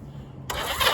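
A classic Honda CB250K0 motorcycle, choke applied, is started in one abrupt, loud burst of engine noise that begins halfway through the brief sound after a quiet moment.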